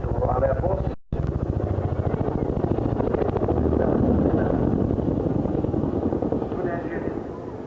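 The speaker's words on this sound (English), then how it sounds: "Coming in from your right is the 7th Squadron Chinook." A loud Chinook HC Mark 1 twin-rotor heavy-lift helicopter thumps and roars steadily close by at an air show, its deep rhythmic chopping dominating throughout with a brief dropout early on.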